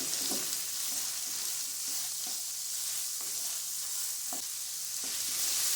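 Capsicum, carrot and cabbage lightly frying in a pan, a dense steady hiss of hot oil with faint, irregular taps and scrapes of stirring underneath, close and even throughout.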